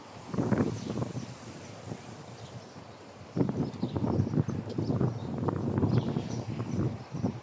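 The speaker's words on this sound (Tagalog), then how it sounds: "Ay, lakas ng hangin." Strong wind buffets the microphone in gusty rumbling bursts, with a quieter lull before heavy low blasts return and persist, loud and close with no clear talk.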